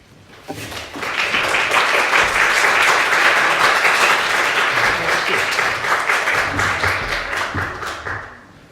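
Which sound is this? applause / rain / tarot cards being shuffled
applause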